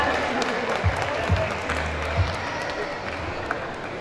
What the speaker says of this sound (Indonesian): kita kasih tepuk tangan juga